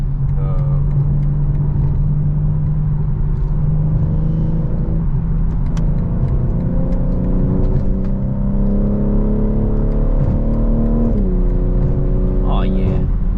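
A BMW engine revs while driving on a road in Mexico, a loud in-cabin drone whose pitch climbs steadily through the gears, with an abrupt shift near the end and someone talking over it.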